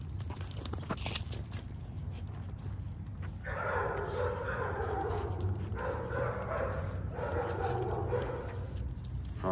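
Several dogs bark and whimper close by, with yips and whines in steady bursts over a constant low background rumble.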